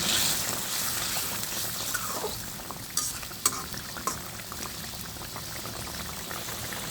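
A snakehead fish bhuna fries in an uncovered pan, a continuous bubbling sizzle broken by several sharp close clinks and scrapes of a stirring utensil against the pan.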